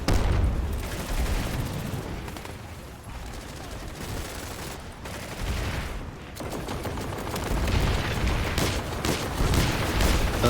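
Dense gunfire rattles in a Planetside 2 battle, overlapping bursts of automatic fire and heavier booms crowding together in a loud, continuous barrage.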